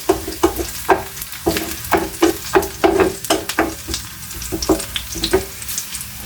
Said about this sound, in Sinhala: ඒ අතරතුර අපි මේ මිරිස් මේ ලුණු ටික බැද ගන්න තමයි හදන්නේ